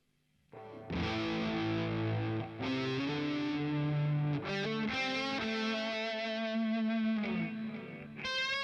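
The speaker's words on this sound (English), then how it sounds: "Tape echo, the classic one." Electric guitar played on the bridge pickup through a Boss Katana MK2 amplifier with a tape echo effect, sustained distorted chords and notes ringing with repeating echoes, loud and alone without talk.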